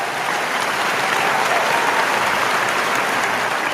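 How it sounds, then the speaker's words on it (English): Canned applause played on a live stream, a dense, steady crowd clapping that stays loud and even for its whole length with no voices over it. "and some applause"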